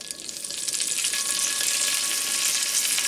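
Chicken livers fry in a pan with a steady, close, hissing sizzle that swells slightly at the start and then holds even, with no voices over it.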